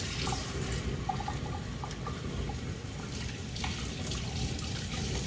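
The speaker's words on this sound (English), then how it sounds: "Rinse this off real good." Food is rinsed under a running kitchen tap, with a steady stream of water splashing into the sink and a few faint clinks and drips, no talking.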